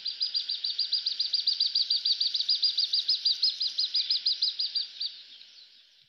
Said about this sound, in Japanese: これがオオヨシキリですね